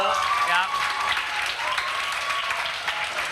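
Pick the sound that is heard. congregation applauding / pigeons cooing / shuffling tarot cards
congregation applauding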